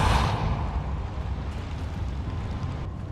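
The Depulso spell in Hogwarts Legacy lets off a forceful whooshing blast that starts with a loud burst and trails into a rumbling, noisy roar lasting a few seconds.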